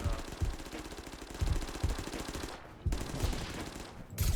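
Rapid automatic gunfire from the video game Totally Accurate Battlegrounds crackles in dense bursts with heavy low thumps, almost continuous through the clip, sounding fairly close with a brief gap near the middle.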